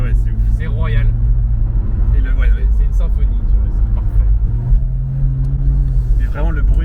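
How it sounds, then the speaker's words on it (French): A Porsche Boxster 987 with its flat-six engine runs with the top down, a steady low rumble beneath someone talking over it throughout. "Vraiment le bruit du flat 6, putain, il est enivrant quoi."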